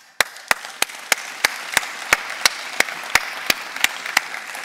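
Applause for Dick Waaienberg at a Dutch event: a steady, rhythmic chorus of clapping with sharp regular beats, fairly close and loud, with no voices over it.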